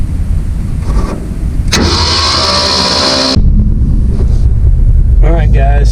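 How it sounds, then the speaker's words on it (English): An old Kubota 7100 diesel tractor engine cranks, then catches and runs as a loud, rough, low rumble that continues right up against the microphone. A voice briefly speaks near the end. "I've got the little Kubota 7100 running"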